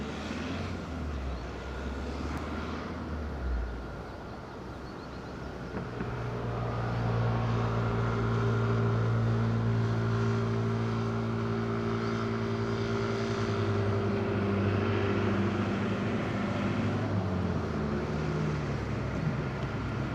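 An airplane on landing approach at Madeira Island Airport, its engine drone swelling from a distant hum into a loud, sustained roar with steady tonal whine as it passes near, no talking.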